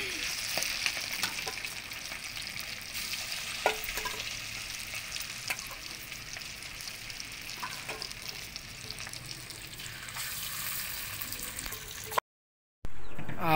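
Spices crackle and sizzle steadily in hot oil for chicken biryani cooked on a wood-fired stove outdoors, a continuous dense frying hiss with occasional sharp pops, near and fairly loud, ending in a brief cut to silence.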